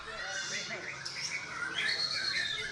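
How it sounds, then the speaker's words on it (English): High bright chirps and warbling phrases from songbirds at a bird contest in Yogyakarta, several birds calling continuously at moderate level over a low murmur of people in the background. "These people believe that the beautiful chirping of birds brings good luck."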